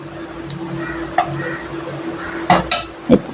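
A few sharp metallic clanks close up as a lid is set onto a pot of simmering Chettinad fish curry, with faint kitchen clatter and a low steady hum underneath.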